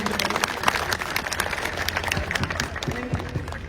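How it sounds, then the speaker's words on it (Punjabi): Audience clapping fills the air at a Punjab political rally, a steady wash of many hands that holds for a few seconds with some crowd murmur beneath it. "ਤਾੜੀਆਂ ਮਾਰ ਕੇ ਦੱਸ ਦਿਓ ਜੇ ਚੰਗੀ ਲੱਗੀ"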